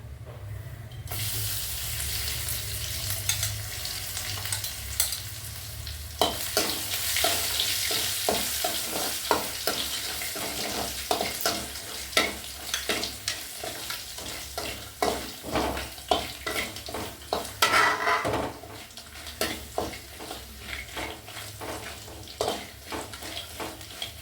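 Crushed garlic fries in oil for sambar, a steady close sizzle with repeated sharp scrapes and clinks of a spoon stirring against the pan, growing busier and more rhythmic after the first few seconds.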